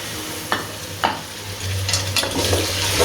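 Tomatoes and green chilies frying with ginger-garlic in a pan, sizzling steadily while a spoon scrapes and stirs in a few distinct strokes, close and fairly loud with no talking.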